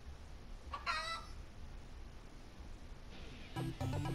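A chicken clucks briefly in Yakuza: Like a Dragon, a short burst early on and another toward the end, fairly faint against quiet game ambience.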